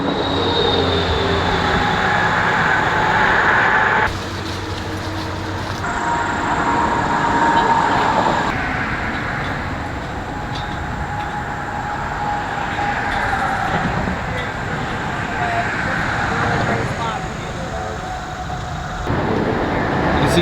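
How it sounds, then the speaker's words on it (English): Traffic rumbles across the New River Gorge Bridge deck high overhead, heard from the catwalk underneath as a steady, loud, broadband roar with swells as vehicles pass, continuous throughout. "you can hear the cars rumbling overhead"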